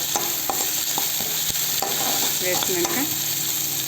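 Onions and crushed garlic frying in a pan as the base for an okra fry, giving a steady loud sizzle with a few stirring scrapes and one brief spoken word.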